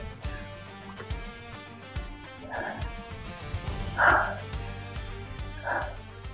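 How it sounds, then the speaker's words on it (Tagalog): Several dogs on an island campsite bark and yip in a few separate bursts at middling distance, set against a steady background hum. "ang daming aso dito"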